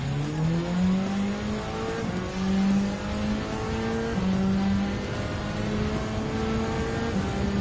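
A race car engine in Gran Turismo 7 drones loudly and continuously, its pitch rising and falling through gear changes across the final lap, with no voices.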